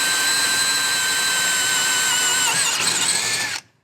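Power drill boring mounting holes for a Warn M15000 winch on a Ford F250, one steady loud high whine held for about three and a half seconds, shifting pitch near the end before cutting off.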